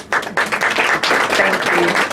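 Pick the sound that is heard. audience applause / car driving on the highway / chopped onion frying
audience applause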